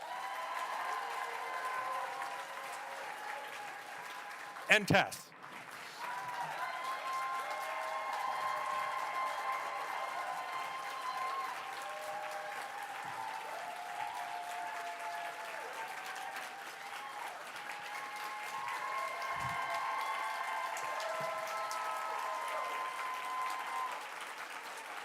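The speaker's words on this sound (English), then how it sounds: "Let's bring our performers back on stage for another round of applause." A stage show crowd claps for the returning performers in long, sustained applause that fills the room. A loud thump lands near the start, and a voice speaks briefly over it.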